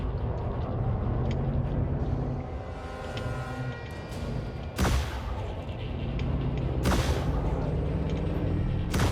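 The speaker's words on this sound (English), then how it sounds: "It's not bad for a volley of 4 small missiles." Pack Hound guided missile launcher in a video game firing a volley of four small missiles, heard as two sharp launch bursts over a steady rumbling engine hum, loud and close.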